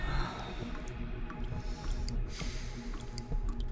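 Water dripping in the horror video game The Operator: sparse, faint, irregularly spaced drips over a low steady background hum.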